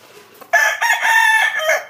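A Blue Face gamecock crows once, loud and close, a long harmonic cock-a-doodle-doo with no talking.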